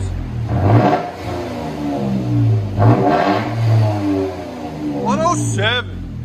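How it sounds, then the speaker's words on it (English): A 2020 Toyota Tacoma TRD Pro 4x4 with a 3.5L V6, stick shift and Black Widow Widow Maker exhaust revved in several loud, close bursts with a smooth, deep tone. A voice comes in briefly near the end. "Oh, that sounds so good. Nice thing about Black Widow, no rasp. It's just smooth."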